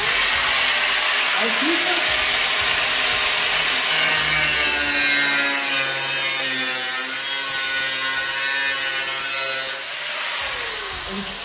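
Angle grinder switched on and cutting a wide-body panel on a BMW E46, a loud steady high whine with a shifting pitch, with someone talking over it.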